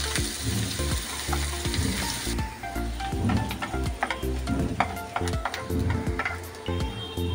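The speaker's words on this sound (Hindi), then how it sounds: "अनियन को थोड़ा सा पिंक एंड गोल्डन कर दे रहा है" Onions fry in hot oil in a pan while making chicken candy, giving a steady close sizzle broken by scraping and clinking as they are stirred, with no voices.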